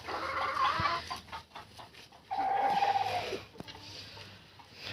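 A broody hen clucks and calls while her chicks peep, a few short bursts of clucking and high cheeping near a farmyard feeding spot, with no talking.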